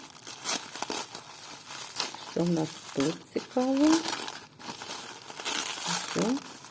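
A small blue plastic packet crinkles while being unpacked from a parcel of vintage jewellery, with dense, bursty crackling rustles coming in repeated handfuls, close to the microphone, while someone speaks intermittently.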